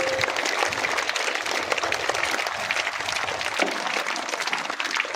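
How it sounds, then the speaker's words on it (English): Students and staff at a school speech event give a big round of applause, sustained, even clapping from a sizeable crowd for several seconds. "We have to show our gratitude with our huge round of applause to Dada sir."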